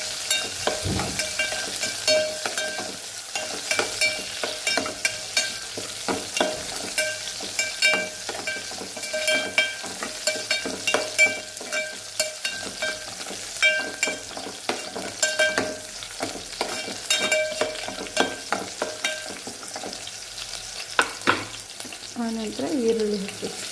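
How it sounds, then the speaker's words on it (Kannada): Seven or eight garlic cloves fry in hot oil in a pan, giving a steady, dense sizzle with frequent stirring clatter and scrapes throughout, close-up and with no voices. "ಒಂದು 7-8 ಎಸಳು ಬೆಳ್ಳುಳ್ಳಿ ಹಾಕಿ ಅದನ್ನು ಚೆನ್ನಾಗಿ ಫ್ರೈ ಮಾಡಬೇಕು"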